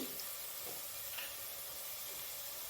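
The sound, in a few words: onions frying in oil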